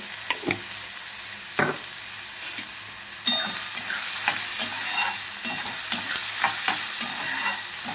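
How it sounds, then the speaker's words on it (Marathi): Salted onion fries in a pan while a spoon stirs it, the sizzle rising sharply partway through and crisp scraping strokes landing every half second or so, close and loud, with no talk. "नेहमीप्रमाणे कांदा भाजत असताना आपल्याला त्यामध्ये थोडंसं मीठ घालायचं आहे, म्हणजे कांदा पटकन भाजतो."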